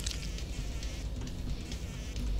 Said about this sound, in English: I hear you buzzing around.